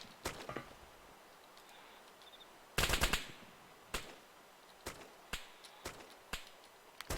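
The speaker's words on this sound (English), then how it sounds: "considering we're shooting tracers up there" Video game gunfire with tracer rounds in Arma 2: scattered sharp single shots and one brief rapid burst, fairly faint and spaced out over a quiet background.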